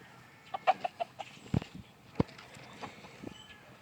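Cobra Aseel chickens in a brood pen cluck in short, scattered bursts, several distinct calls close by over a quiet farmyard background.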